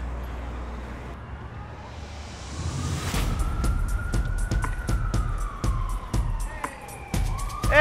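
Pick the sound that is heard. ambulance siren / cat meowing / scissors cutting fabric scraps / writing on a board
ambulance siren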